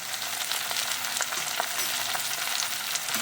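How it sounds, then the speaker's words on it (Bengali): Onion, garlic, ginger and chopped tomato are stir-fried in a pan for an eggplant bharta, making a constant dense sizzle with faint stirring clicks throughout, close and even, with no voices. "এবার নেড়ে কেড়ে আর একটু কষিয়ে নেব পেঁয়াজ রসুন আদা আর টমেটো"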